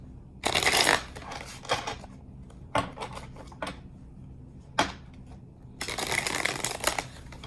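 Tarot cards shuffled by hand in several bursts, with louder riffling passes near the start and end and short flicks and taps between, close and fairly soft, with no talking.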